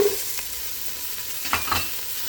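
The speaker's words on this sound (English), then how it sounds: "I will saute that until the onions are translucent" Onions sauté in a soup pot for creamy chicken and kale tortellini soup, a soft hiss with a few light spoon scrapes over a short stretch and no talk.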